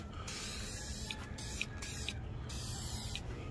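Aerosol smoke tint sprayed onto a Civic Si tail light lens, a steady close hiss running through the whole stretch, broken by a few short pauses between passes.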